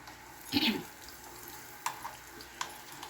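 Pork chop frying in a little oil, a quiet steady sizzle with one louder burst early on and a few faint clicks later, no talking.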